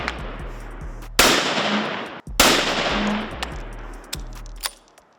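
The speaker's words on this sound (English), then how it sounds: "we're gonna fire off the last 3 shots" A new rifle fires three loud, sharp shots during break-in, spaced about a second apart and each followed by a ringing echo fading into the open air, with no voices.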